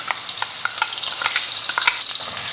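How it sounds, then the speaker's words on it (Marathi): A ground masala paste fries in oil left over from frying prawns, crackling and sizzling steadily up close while a utensil clinks and scrapes against the pan in quick, repeated strokes. "आता कोळंबी फ्राय करून राहिलेलं जे तेल आहे त्या तेलामध्ये हे तयार केलेलं वाटण आपल्याला फ्राय करायचं आहे"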